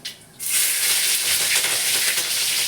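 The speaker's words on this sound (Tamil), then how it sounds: "அப்படியே பச்சை மிளகா ஒரு மூணு பச்சை மிளகா போட்டுக்குவோம்" Three green chillies dropped into hot oil in a pan, setting off a loud, steady sizzling hiss that holds close and continuous after a short quieter start.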